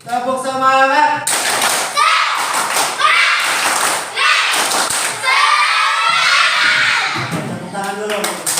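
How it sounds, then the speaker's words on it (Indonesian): Schoolchildren in a classroom perform a 'tepuk semangat' clap chant, sharp rhythmic claps and thumps mixed with children's chanting voices and a teacher's lead, loud and close. "Tepuk semangat"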